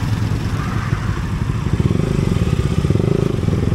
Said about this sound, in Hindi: मेरे बोलने से ज़्यादा ये बाइक चीखती है। बाप रे बाप, खतरनाक वाला साउंड है।